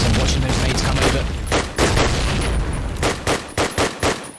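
Gunfire in Call of Duty during a competitive esports match, with dense continuous shooting giving way to several sharp separate shots near the end, mixed with booming effects.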